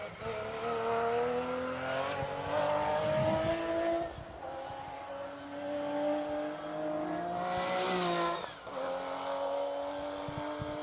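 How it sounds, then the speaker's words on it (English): A Porsche 911 SC rally car drives an asphalt stage of the Argyll Rally, its engine revving loudly through rising and falling gear changes with brief lifts off the throttle, heard fairly near. "There is the Porsche 911 SC of Seb Perez, Gary McElhaney"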